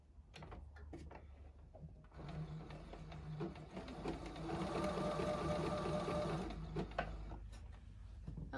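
A sewing machine runs a zigzag stitch along the edges of fabric for a scrub cap. Its steady, close mechanical whir rises into a sustained hum after a few short starts, with no talking.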